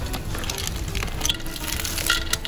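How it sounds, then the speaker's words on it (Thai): White clams stir-fry in a pan with dried chili and garlic, producing a moderate crackling sizzle with quick scraping stirs and light clinks, close by and without talking. "จากนั้นใส่หอยขาวหรือหอยตลับลงไปผัดนะคะ"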